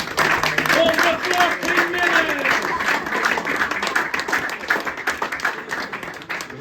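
A supporters club crowd applauds its volunteer groundsman helpers, clapping briskly and loudly at first, then thinning into scattered claps, with voices chatting and calling out over it.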